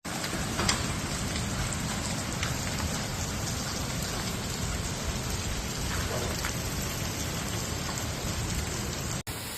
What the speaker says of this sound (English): A powerful storm accompanied by heavy hailstones struck Dijon on Wednesday evening.